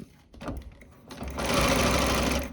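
A sewing machine stitching bias tape piping for a bag or cushion, starting with a few hesitant taps and then running into a loud, steady, rapid whir for about a second, close by.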